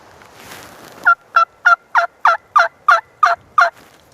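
A Ready Rita latex mouth call blown in a high-pitched run of nine sharp, evenly spaced yelps, loud and close, imitating a turkey, after a brief soft breathy start.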